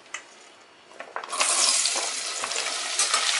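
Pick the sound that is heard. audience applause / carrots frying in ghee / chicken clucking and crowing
carrots frying in ghee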